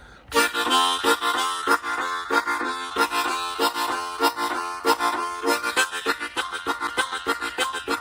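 A harmonica plays rapid pulsing chords in a steady chugging rhythm, imitating a train rolling along the tracks, loud and close.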